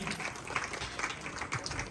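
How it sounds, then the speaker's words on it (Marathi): Steady applause from an audience at a village Home Minister-style comedy ukhane event in Burkegaon, a dense continuous patter of many hands clapping throughout without a break. "जरा टाळ्या वाजवा"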